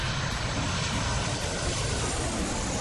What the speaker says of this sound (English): We have a new chopper.